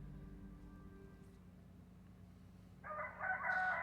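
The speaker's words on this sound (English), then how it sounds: "a rooster's song reaches your ears, followed by barks and loud cursing" After nearly three seconds of low, steady hum, a rooster's crow suddenly rises and carries on to the end, loud against the quiet background.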